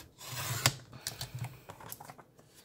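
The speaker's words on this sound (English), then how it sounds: "It's a simple paper cutter." A simple paper cutter slides along the edge of a book's pages during unbinding, giving soft, faint scraping and slicing sounds in short irregular strokes close by.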